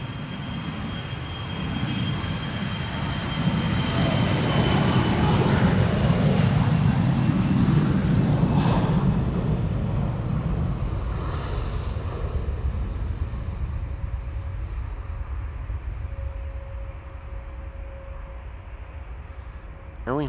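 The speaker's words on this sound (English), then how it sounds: "And we have liftoff." A 15-year-old airliner, first flown in June 2009, takes off from Amsterdam Schiphol Airport: a loud, broad jet roar swells over several seconds, peaks, then slowly recedes into a fading rumble with a thin whine lingering.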